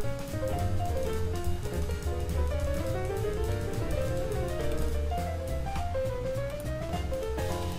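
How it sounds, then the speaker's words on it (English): Jazz intro track from the YouTube music library, playing steadily with melodic lines over a continuous, moderately loud backing, with no voices. "It's some nice jazz."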